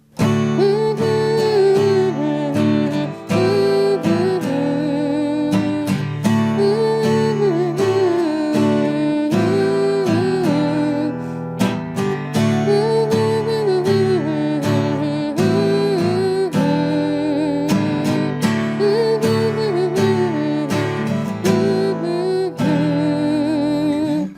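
Continuous strummed chords on an acoustic guitar, loud and close, played steadily in a repeating pattern with brief pauses between phrases.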